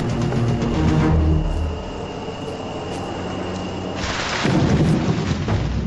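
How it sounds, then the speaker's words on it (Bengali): A thunderstorm rolls over a Panama jungle in the rainy season, with deep, sustained rumbling and the hiss of rain building louder toward the end. "যখন তখন বৃষ্টি নামছে আর জঙ্গলের মাটি পুরো কাদা কাদা হয়ে গেছে। আর এই বাজ পড়ায় অবস্থা আরো খারাপ।"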